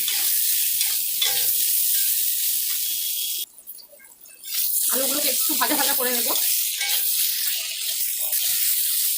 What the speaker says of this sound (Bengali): দেখো আলুগুলো আমাদের ভাজা ভাজা হয়ে গেছে